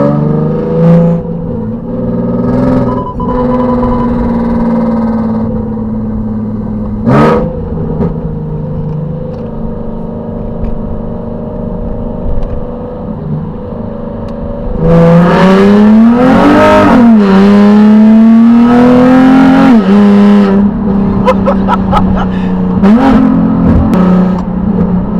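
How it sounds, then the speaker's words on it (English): A 2009 Nissan 370Z with a VQ engine, automatic transmission, test pipes and a loud exhaust revs hard close by, its harmonic drone climbing and falling through repeated throttle blips, growing louder and rougher in the second half. "There's no way for you to be discreet with this exhaust at all."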